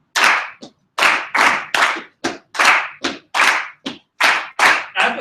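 Hand clapping in a rhythm exercise, a series of about a dozen sharp, close claps in uneven groupings with short silent gaps between them.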